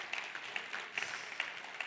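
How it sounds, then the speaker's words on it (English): Light applause at a European Greens congress in Dublin as a delegate named Gosha is honoured, soft and fairly distant clapping from a hall audience, steady and without voices over it. "Yes, an applause for Gosha."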